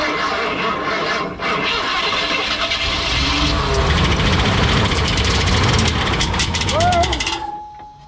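A Ford 302 V8 in a 1988 Ford Bronco turns over loudly and close for several seconds before cutting off abruptly, with voices talking over it.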